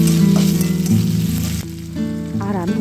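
Ginger paste and chopped tomato hit hot oil with a loud, close sizzle that hisses continuously, dipping briefly as the pan is stirred and then flaring back up.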